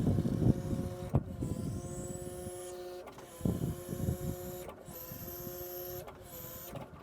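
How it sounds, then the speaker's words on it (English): An electric Lift Hero CPD25 forklift side-shifts its carriage, a whining hydraulic motor running in repeated bursts with short pauses between them, over a low steady mechanical hum. "now side shift. This is where you're going to see the whole carriage move left or right."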